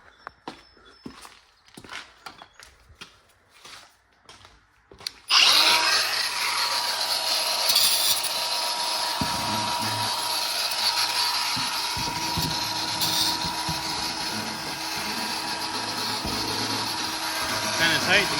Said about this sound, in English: I almost just want to cut it off with a grinder and be done.